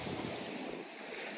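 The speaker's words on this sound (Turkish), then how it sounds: "Sesleri duyuyorsunuzdur. Çok fazla rüzgar var." Strong wind gusts buffet the microphone at a lakeside carp fishing camp in Çekerek, Yozgat, a dense continuous rush of air with low rumbling, brief and fairly faint.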